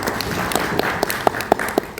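An audience at an entrepreneurs' event claps for itself, a sparse, uneven patter of hand claps with a few sharp, louder claps standing out near the end.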